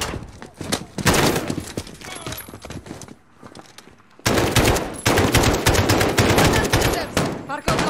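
Heavy automatic gunfire in the Call of Duty Modern Warfare video game, loud dense bursts that ease briefly in the middle and then resume at full intensity.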